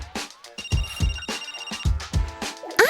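A phone ringtone plays for an incoming call, a repeating electronic melody with bright chiming notes and a steady pulsing rhythm, close and clear, with no talking.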